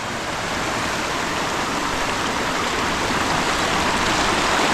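A river flowing beside a road in dense forest, a steady, close, full rush of water that holds evenly throughout with no voices.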